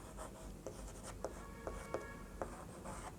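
Writing on a board: a series of quiet, scratchy stroke sounds in short bursts, spaced irregularly against a faint room hum.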